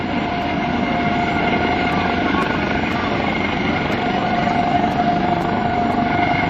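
An HH-65C Dauphin helicopter hovers close by at an airshow, its rotor and turbine roar steady and loud, with a faint voice barely audible beneath it.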